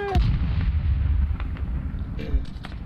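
A tank fires in a war video game: a deep booming blast at the start with rumbling echo, followed by distant crackling gunfire and a few sharper shots as the rumble fades.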